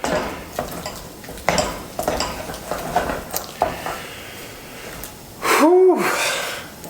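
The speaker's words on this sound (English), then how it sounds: "you want to keep mixing this until all the eggs are incorporated into the dough" Churro dough being mixed with eggs in a bowl: scraping, tapping utensil strokes against the bowl in an irregular rhythm, close and fairly loud, followed by a brief sneeze-like gasp near the end.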